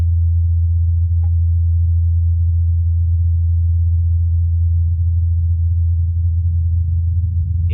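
A steady, loud low hum plays from a recording of a helicopter coming back down to land, continuous and unchanging, with a brief faint click near the start and another at the end.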